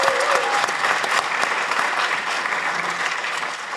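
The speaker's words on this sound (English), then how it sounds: "Give Campbell Harvey a round of applause." A studio audience gives Campbell Harvey a round of applause, close and sustained clapping that holds steady for nearly four seconds.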